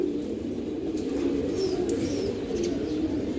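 A female pigeon of a racing homer line coos in low, steady rolling tones, close and continuous throughout with no talk, a few faint higher chirps from other birds in the background.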